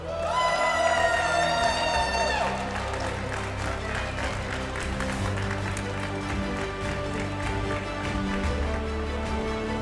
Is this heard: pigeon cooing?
no